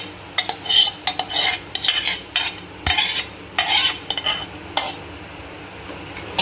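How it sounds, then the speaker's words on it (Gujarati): A spoon scrapes and knocks through Girnari khichdi in a cooking pot as the tempering is mixed in, coming in irregular bursts of close stirring with short pauses and faint sizzling beneath. "હવે મસ્ત રીતે એને ખીચડીને આપણે મિક્સ કરી દઈએ આ રીતે"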